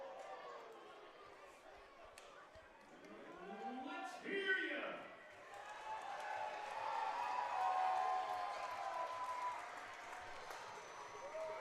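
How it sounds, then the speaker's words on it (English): Baseball crowd at an IBL game between the Kitchener Panthers and London Majors, a swelling wash of cheering and clapping that builds and stays loud, with a commentator talking over it. "Crowd getting into it here."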